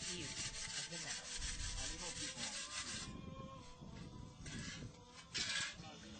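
Haitian metal sculpture sanded by hand to bring out the shine, a steady rhythmic rasping scrub that keeps going throughout the clip at moderate loudness, with a louder stroke near the end.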